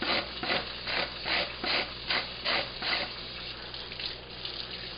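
A blade rasps spines off a nopal cactus pad in about eight steady, rhythmic rubbing strokes, close and moderately loud, with faint running water in the background.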